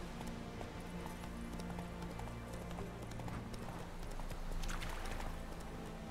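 Roach, the horse in the video game The Witcher 3, gallops with a steady clip-clop of hooves over a dense, continuous game soundscape, fairly loud and unbroken throughout.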